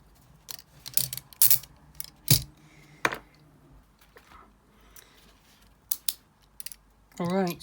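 British police handcuffs are shimmed and picked with hairpins, giving sharp metallic clicks and ratcheting snaps at irregular intervals, close up, with a short burst of voice at the end.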